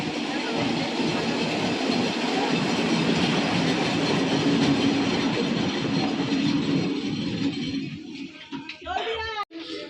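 Passenger train running with a group of elderly family members aboard, a steady loud rumble of wagons and rails under a crowd's chatter, easing off near the end.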